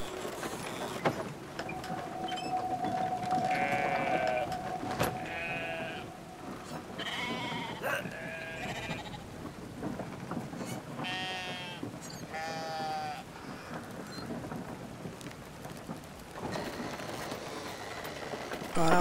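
Sheep in the game Brothers: A Tale of Two Sons bleat repeatedly, with several wavering cries overlapping at varied pitches over steady background ambience and some thumping movement.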